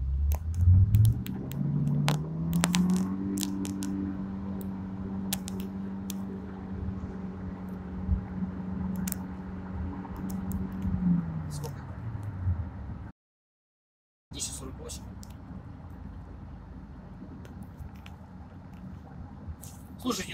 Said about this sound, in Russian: Ну вот такой вот тест, заезд Cherry Tiggo 8